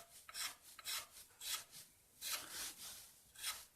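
Hand sanding on the wooden heel of a cigar box guitar neck gives soft rhythmic rasping strokes, about seven back-and-forth passes, close and quiet with no voices.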